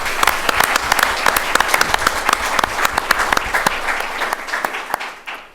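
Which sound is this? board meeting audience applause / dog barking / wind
board meeting audience applause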